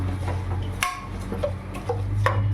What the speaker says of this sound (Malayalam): നല്ല രീതിയിൽ ഇളക്കി യോജിപ്പിച്ച് കൊടുക്കുക.